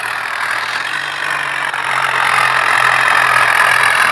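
A Zetor tractor engine runs steadily nearby with a loud, rough diesel drone that swells slightly partway through, with no voices over it.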